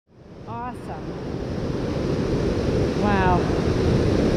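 Waterfall on the McKenzie River in Oregon, heard as a steady broadband rushing roar that swells in and stays loud throughout, with brief voices over it.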